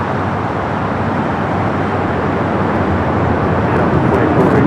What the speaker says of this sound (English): Next takeoff there on the north side at 24 left.